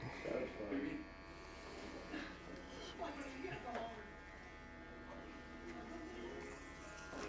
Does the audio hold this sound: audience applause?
no